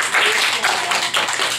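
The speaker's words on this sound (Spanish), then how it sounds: "Aplauso para Albert." A classroom group applauding a child named Albert during a Spanish lesson for kids, a short burst of brisk, fairly loud clapping from several hands, close by, with no talking over it.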